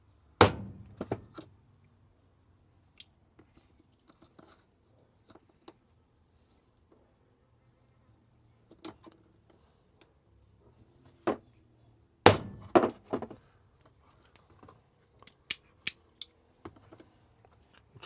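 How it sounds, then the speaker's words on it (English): Sharp metallic strikes of a hammer on a brass punch used for Leatherman multitool repair ring out in scattered clusters, a few hard whacks separated by long quiet gaps and lighter taps, close and fairly loud. "get a hammer from somewhere, there's a hammer, and give it a whack"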